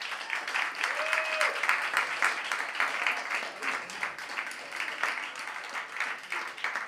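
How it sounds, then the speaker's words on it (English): Audience at a live international song contest final applauding the judges, sustained clapping from a sizable crowd with a few voices and cheers mixed in. "Let's a round of applause for the judges."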